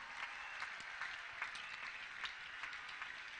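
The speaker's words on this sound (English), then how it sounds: "Clap unto this great God of power." A church congregation at a testimony service in Port Harcourt claps in praise, a steady, fairly faint patter of many hands lasting throughout with no voices over it.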